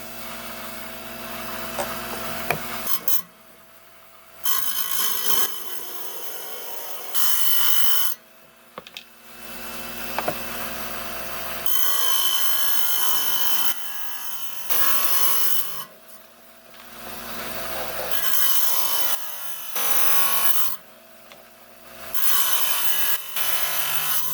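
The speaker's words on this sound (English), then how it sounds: "we're down here in the 5-inch trim saw. I got my shape, so let's trim it out" A 5-inch lapidary trim saw cuts through marcasite stone in several bursts, a close, loud whining grind that starts and stops repeatedly as the stone is fed and pulled back, with brief quieter gaps between cuts.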